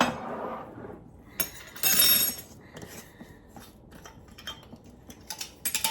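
A regular metal tablespoon clinks and scrapes against dishes while scooping for homemade hot cocoa balls, with sharp, close clinks scattered through the clip.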